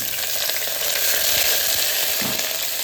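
Onion and garam masala frying hard in oil for mutton sukka, a steady dense sizzle throughout with a faint stir or scrape near the end.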